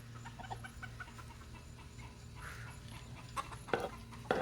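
Laying hens and baby chicks kept for sale in a coop area, a steady murmur of clucking and faint peeping, with a few louder calls toward the end, all fairly quiet.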